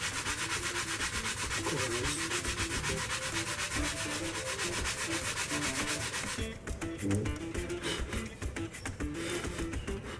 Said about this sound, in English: here we're just going to sand over the wood filler first and make it easy for us